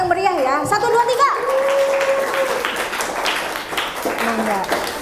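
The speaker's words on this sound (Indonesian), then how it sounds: "Setiap yang maju ke depan berikan tepuk tangan yang meriah ya." Children and an audience at a Ramadan school religious event clap in a dense burst at close range, mixed with excited kids' voices and talk.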